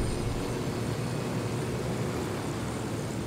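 A helicopter engine in Ghost Recon Wildlands runs as a steady, loud, broadband whine and roar, unbroken and without talk.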